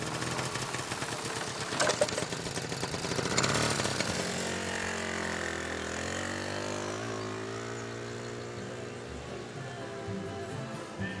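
A small moped engine runs steadily and fairly loud with a buzzing, chainsaw-like tone, its pitch sliding and shifting partway through as the revs change; no one speaks.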